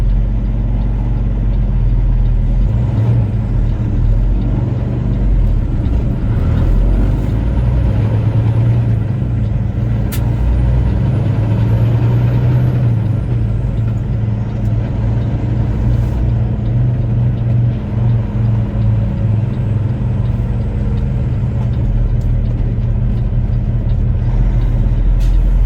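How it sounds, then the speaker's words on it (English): Heavy road traffic on a potholed highway, with trucks rumbling past and the occasional hiss of air brakes. The dense, loud engine noise runs continuously and fills the whole stretch without pause. "Traffic."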